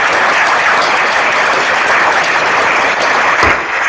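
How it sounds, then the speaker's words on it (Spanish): Conference audience applauding a speaker after a talk, with dense, steady clapping that stays loud and close for several seconds. "por favor, un último aplauso para su intervención."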